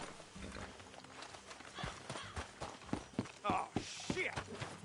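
Horses' hooves clip-clop at a walk in Red Dead Redemption 2, an irregular series of soft thuds under game ambience and brief voices.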